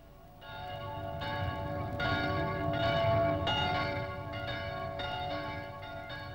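Church bells of Hørsholm Church, once rung from the palace chapel, peal in a steady overlapping sequence of strikes, loud and resonant, ringing on without pause and alone without voices.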